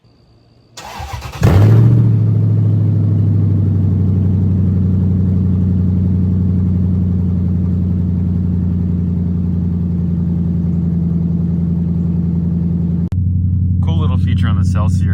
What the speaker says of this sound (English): Let me get a cold start real quick.